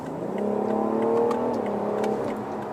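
A BMW 760Li V12 Excellence accelerating in Sport Plus mode, heard from inside as the engine note climbs in pitch, holds, then eases off in a smooth, rising rev lasting a few seconds.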